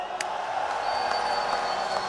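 Large outdoor rally crowd on a city street cheering and clapping together, a dense steady roar of voices and applause held at an even level throughout.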